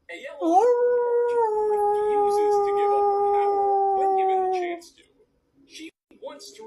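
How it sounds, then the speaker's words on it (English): A hybrid wolf dog gives one long, loud, sustained howl on cue, a steady tone that holds for about four seconds and then breaks off, followed by a few faint yips and snuffles. "When you ask me to howl for you, well, this is what I'm gonna do."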